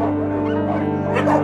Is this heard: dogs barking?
yes